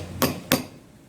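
Two sharp, ringing hammer blows about a third of a second apart strike a dapping tool to shape a Damascus steel ring over an anvil, each metallic hit decaying quickly into a quiet room.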